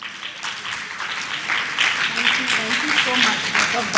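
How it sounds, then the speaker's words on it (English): An audience applauds at a hospitality association's ninth anniversary event in 2024, steady clapping that swells midway while a voice talks over it. "A good round of applause for Arpita Singh."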